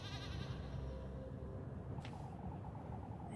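A sheep bleats in the video game Little Goody Two Shoes, a short wavering cry at the start that fades into a low murmur of in-game ambience.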